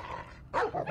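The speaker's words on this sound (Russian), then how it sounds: "Собака!" A dog barks in the Call of Duty Mobile game, two or three quick yaps following faint background game noise, fairly close and clear, with no talking.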